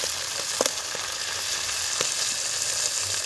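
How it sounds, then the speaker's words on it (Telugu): Onions and tomatoes fry in a pan over a wood fire, a dense, continuous sizzle close by, broken by occasional soft pops and stirring taps. "ఈ దోరెరుపుగా వచ్చేంత వరకు వేయించుకోవాలి"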